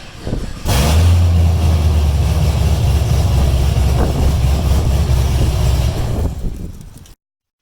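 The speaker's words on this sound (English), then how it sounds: "if you were wondering what a straight pipe G8 sounds like" A Pontiac G8 GT with straight pipe exhaust idling, a loud, deep, rumbling V8 drone that starts abruptly, holds steady for several seconds, then fades out, close and with no talk.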